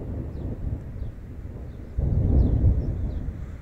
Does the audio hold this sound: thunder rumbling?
yes